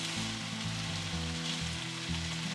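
Onions and fried potatoes for a Goan okra and potato fry sizzle steadily in a pan, a dense continuous hiss with a low rumbling hum beneath and no talking.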